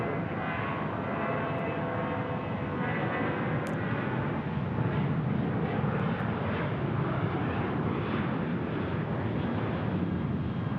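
A jet airliner on a one-mile final to runway 25 left at Phoenix Sky Harbor Airport roars loudly and steadily throughout, a broad continuous engine rumble with wind noise and no voices.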